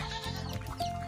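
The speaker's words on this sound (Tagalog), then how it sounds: "Ayun yung mga kambing, oh." Goats bleating on a farm, several overlapping wavering cries repeating close by, with a sharper higher call near the end and no talking.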